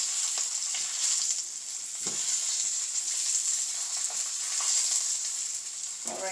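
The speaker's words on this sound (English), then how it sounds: "I have both peppers on my pan, getting a golden brown on each side" Potato-stuffed peppers fry in a pan with a continuous close, bright sizzle and crackle, a few soft knocks of a utensil scattered through.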